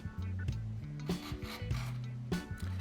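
Wooden dovetails are chamfered by hand, giving short, quiet rasping strokes in an uneven rhythm, close by and heard alone.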